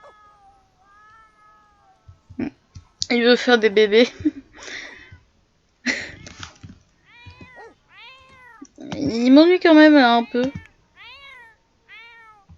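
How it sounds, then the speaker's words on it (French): A cat meows in the Sims 4 video game, giving several drawn-out, wavering meows in separate bursts, some loud and some fainter, while a person speaks French between them. "Arrête de miauler"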